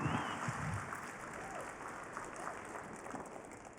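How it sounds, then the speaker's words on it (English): Audience applause at a Cisco Live keynote in Las Vegas, a steady wash of clapping from a large crowd that holds moderately loud throughout and slowly eases off slightly. "Give him a big round of applause."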